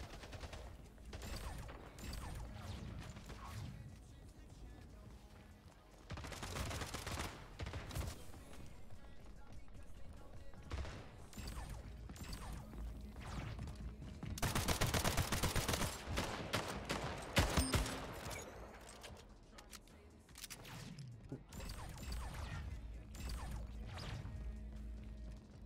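Automatic pistol fire rattles in Splitgate, rapid bursts of sharp gunshots in several clusters, with a loud sustained volley in the middle, mixed with running footsteps and clattering arena action.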